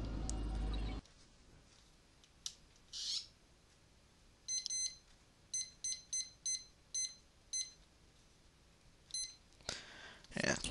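Electronic timer alarm beeping in short repeated bursts, a steady series of bright, evenly spaced beeps lasting several seconds, fairly clear over faint background game audio.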